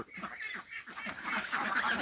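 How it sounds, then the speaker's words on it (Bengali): Young geese, about 1.5 months old, honking close by, a few overlapping nasal calls in quick succession. "এই রাজহাঁসগুলোর বয়স কিন্তু বেশি না।"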